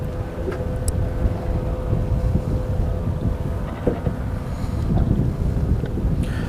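Wind buffets the microphone in low, rumbling gusts over a moving boat on a river, with faint water and boat noise beneath and no speech.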